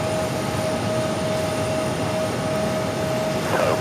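American Airlines A321neo jet touching down on runway 8 at Phoenix, arriving from Philadelphia; a steady, broad engine roar holds at constant loudness throughout, with a faint tone riding on it and no talk.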